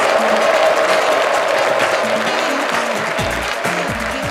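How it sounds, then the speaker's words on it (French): Applause from a comedy-show audience: a dense, loud wash of clapping that stays steady across the whole span, with crowd noise and a few low vocal tones mixed into it. "Un tonnerre d'applaudissements, s'il vous plaît, pour Herman Amissi de la RDC."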